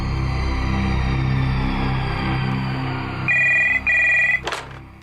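A phone rings back during an outgoing call, two electronic ring bursts over a steady background hum, followed by a short click, close and clear.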